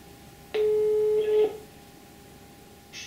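Outgoing call ringback on a phone line: one steady tone near 400 Hz lasting about a second, then quiet line hiss, with a second ring starting at the very end, loud and close.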